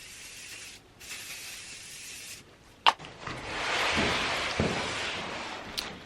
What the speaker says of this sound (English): I'm just going to hairspray.